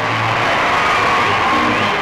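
A large outdoor crowd of about 30,000 at Preston cheering and shouting for the Queen, a dense, continuous roar of voices with whoops, loud and steady throughout.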